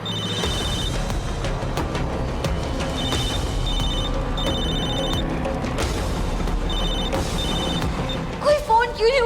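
Repeated bursts of a telephone bell ringing in a steady on-off pattern, unanswered, mixed with room noise and a brief clatter at the end.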